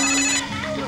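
A telephone rings with a bright, steady electronic tone, loud and close, cut short after under a second.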